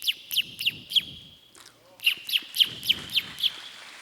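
A performer imitates birds chirping at dawn with a quick series of sharp, high tweets, about a dozen in two bursts separated by a short pause, fairly loud and close.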